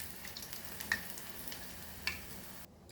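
Prawn tempura sizzles steadily in hot oil, a soft continuous frying hiss with a couple of faint pops and ticks, close and quiet with no one talking.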